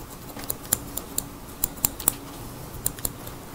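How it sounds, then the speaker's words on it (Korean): Scissors snipping hair during a clipper-over-comb haircut in a barber shop, a series of sharp, quiet clicks spaced irregularly over low room noise, with no talking. "그럴 때는 이제 가위로 좀 이렇게 꼼꼼하게 해주면 좀"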